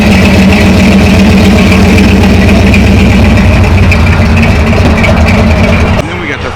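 A Ford Galaxie fitted with a 428 V8 idles loudly and close at a cars and coffee meet, a deep, lumpy rumble holding steady for six seconds before cutting off abruptly.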